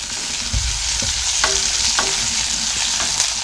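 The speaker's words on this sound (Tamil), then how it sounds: "வெங்காயம் நல்லா வதங்கட்டும்." Onions sautéing with curry leaves and crushed garlic in a pan, a steady close sizzle broken by a few sharp scrapes and knocks of stirring, with no voices.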